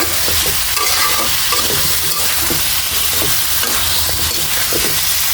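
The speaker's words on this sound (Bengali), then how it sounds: "ভালোভাবে আচারটা তেলের সাথে ভেজে নিচ্ছি" Mango pickle fries in oil while being stirred, a loud dense sizzle running steadily with repeated scraping strokes of a spoon against the pan, no talking.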